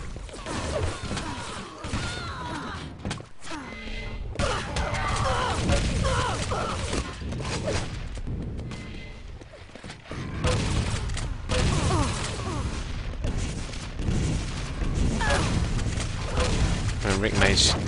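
Shotgun blasts and rocket launcher explosions from a Quake Live team deathmatch in the ClanBase Nations Cup 2012, Italy vs Slovakia, come as dense rapid bursts of gunfire and crashing impacts, loud and continuous under fast commentator speech.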